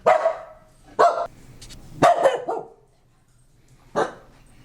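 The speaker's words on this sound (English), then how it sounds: "Someone's barking at me." A dog barks several times in sharp, separate bursts, fairly close, with short pauses between barks and quiet in between.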